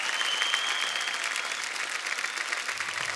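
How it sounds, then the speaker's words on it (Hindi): Studio audience at a comedy roast show featuring cricket legends applauding warmly, a dense, steady wash of clapping from a crowd that holds even for a few seconds. "सूर्या के लिए जोरदार तालियां।"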